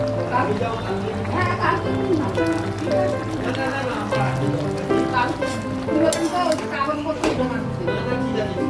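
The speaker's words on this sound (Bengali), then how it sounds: "এই যে মাছগুলো সেদ্ধ হচ্ছে" Fried fish simmers in a pan with bottle gourd greens and lentil dumplings, a steady bubbling sizzle with light stirring clatter running beneath people talking nearby.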